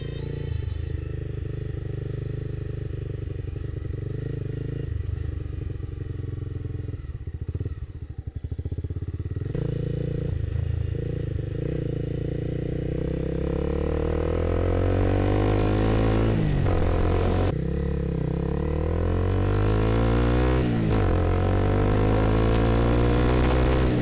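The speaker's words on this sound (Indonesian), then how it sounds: "pakai knalpot Akrapovic KW katanya" A 2012 Honda CBR250R motorcycle fitted with an aftermarket Akrapovic replica exhaust idles with a steady, throaty rumble, then revs up in rising and falling sweeps, loud and close, with no talk.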